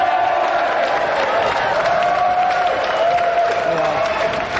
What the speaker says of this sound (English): a round of applause for the European Sega champion, Danny Curly